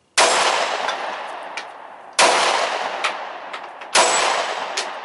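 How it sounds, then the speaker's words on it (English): Three loud, sharp gunshots at a shooting range, spaced about two seconds apart, each followed by a long echoing decay, as if heard outdoors at a distance. "when you're down at the range and someone starts firing"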